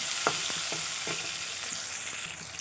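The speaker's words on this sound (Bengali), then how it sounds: "টমেটোটা সেদ্ধ করার জন্য দিয়ে ভালো করে আমি একসঙ্গে ভেজে নেব" Tomato frying in a pan with salt and turmeric for a raw fish tel jhal: continuous close sizzle broken by several rhythmic spatula scrapes against the pan.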